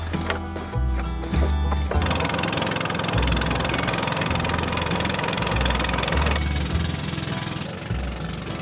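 A boat engine runs on the Sangu river, a steady close mechanical chugging drone with rhythmic knocking beneath a broad hiss of water and wind, loud and continuous with no voices.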